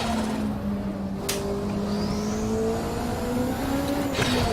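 A race car engine in Assetto Corsa with the DRM mod drones steadily and loudly under acceleration, its pitch gently rising and falling through gear changes, with a couple of sharp clicks.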